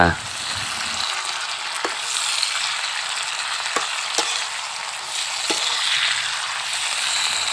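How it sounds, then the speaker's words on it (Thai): Sunflower sprouts stir-fried in a hot pan give a steady sizzle throughout, broken by a few sharp scrapes and clacks of the utensil tossing them, with no talking. "ผัดคลุกเคล้าให้เข้ากัน จนกว่าต้นทานตะวันที่ดูแข็งๆจะอ่อนตัว"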